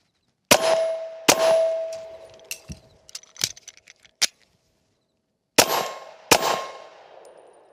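Ruger pistol shots in a shoot-two, reload, shoot-two range drill: two sharp reports, then clicks and metallic clatter from the reload, then two more shots, each ringing briefly.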